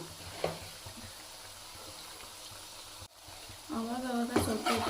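Onion bajji sizzle and crackle in a pan of hot oil in a home kitchen, a steady close frying hiss, with a few stirring knocks and a voice speaking near the end.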